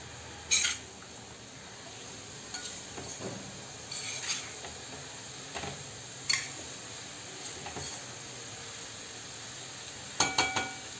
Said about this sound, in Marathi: एक 2 मिनिट आता ह्या भाज्या अशाच परतून घ्यायच्या आहेत.